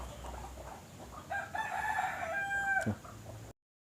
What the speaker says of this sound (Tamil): பாருங்கள், கோழி கூட கத்துது.